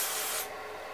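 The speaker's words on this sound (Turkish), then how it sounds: "Bununla kontak sprey yardımıyla" Contact cleaner spray hissing onto a dirty HP laptop fan during cleaning, a short close burst of broadband spray noise that cuts off about halfway through, leaving only quieter rubbing.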